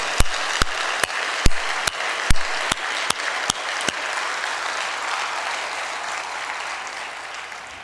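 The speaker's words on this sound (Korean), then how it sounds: "주님께 영광의 박수 올려드리겠습니다" A church congregation applauds during a worship service, starting with about ten sharp, evenly spaced claps in unison, then breaking into sustained, dense applause from the whole room.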